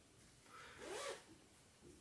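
A single quiet zipper pull on a stretchy cosplay mask, a short rasping zip lasting about half a second, close and alone.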